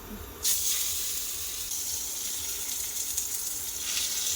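Pieces of freshly caught katla fish hit a hot steel wok on an induction cooker and burst into a loud, steady sizzling hiss that holds without letting up.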